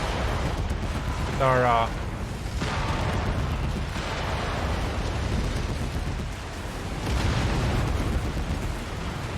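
Heavy weapons fire and explosive booms from giant battle mechs in MechWarrior 5: Mercenaries sound in a few rumbling bursts, mixed with a brief electronic warble, while someone talks over the action.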